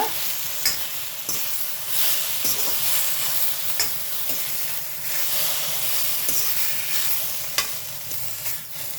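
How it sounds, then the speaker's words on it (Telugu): Gongura sorrel leaves frying on a low flame for chutney, a continuous close hiss of sizzling oil with regular sharp clicks and scrapes of a spoon stirring the pan, no voices. "ఇప్పుడు ఈ గోంగూర ఫ్రై చేసుకుందాం. లో ఫ్లేమ్లోనే ఫ్రై చేసుకోవాలమ్మా"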